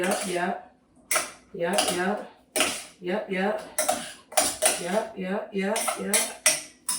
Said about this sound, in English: So then I'm going to stir that all.